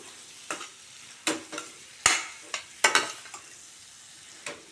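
A spoon scrapes and stirs mango pickle frying in mustard oil in a sizzling pan, in irregular strokes, with a soft frying hiss underneath.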